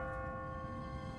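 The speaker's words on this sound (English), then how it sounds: "What kind of church bell goes off at 20 past the hour?" Automatic church bell on a timer in an abandoned city in The Walking Dead video game, ringing as a steady, sustained metallic tone with layered overtones throughout.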